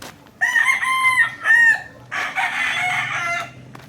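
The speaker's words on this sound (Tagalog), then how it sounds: "marami akong manok. Alagang manok dito sa ano." Domestic chickens kept at a backyard in the Philippines, a rooster crowing loudly and close with clucking hens, several drawn-out calls in two bursts with no talk.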